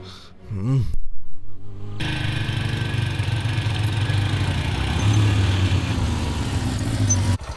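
A motorcycle engine idles steadily at close range, a continuous low rumbling putter that runs for several seconds after a brief rising sound and a moment of silence.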